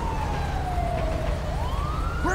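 An ambulance siren in the GTA V police mod LSPDFR wails, sweeping slowly down and back up in pitch, loud and steady against a constant engine rumble.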